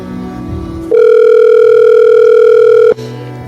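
A loud, steady telephone tone sounds for about two seconds while calling someone, a clean continuous pitched hum that cuts in abruptly and stops sharply over low background noise.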